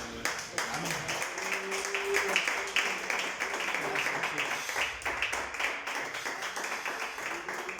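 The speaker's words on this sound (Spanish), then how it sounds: "Denle un fuerte aplauso a Dios" Church congregation applauding after a sermon, a steady wash of clapping with scattered sharper hand claps throughout, fairly quiet and moderately distant.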